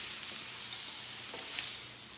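A scallop sears in a hot pan, giving a steady close sizzle with a brief crackle near the end, no voices.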